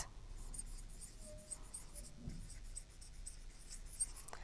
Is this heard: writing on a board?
yes